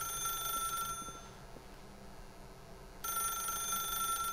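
Telephone ringing in The Stanley Parable video game, a high repeating electronic ring that pauses for a couple of seconds, then starts again, with low background hum.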